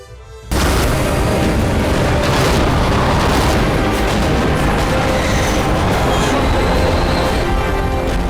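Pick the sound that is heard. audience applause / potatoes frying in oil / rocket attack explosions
rocket attack explosions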